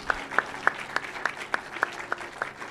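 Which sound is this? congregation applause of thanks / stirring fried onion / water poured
congregation applause of thanks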